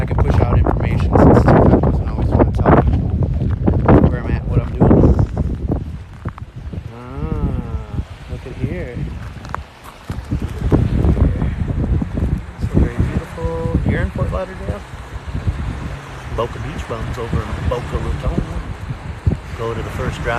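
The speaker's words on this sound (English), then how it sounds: "Windy, can't hear you." Strong gusts buffet the microphone on a walk along Tigertail Beach, a loud rumbling roar that surges and dips, with a person talking intermittently beneath it.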